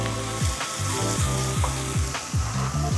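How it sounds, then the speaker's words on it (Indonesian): Chopped onion and minced garlic fry in a pan, making a loud, close, steady sizzle. A falling tone repeats in the background about every half second, and no one speaks. "Bawang bombay udah lumayan setengah layu gitu, boleh masukin bawang putih cincang."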